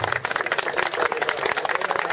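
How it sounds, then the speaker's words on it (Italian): A crowd claps at the prize-giving of a local soapbox cart race, with the town mayor present. Dense, steady applause fills the whole moment, close and lively, with no one speaking over it. "Facciamo un applauso."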